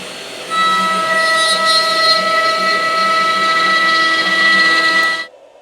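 A Next Wave Shark HD510 CNC router carves wood for a skull gift box, producing a steady, loud, high mechanical whine that holds unchanged for about five seconds before cutting off abruptly.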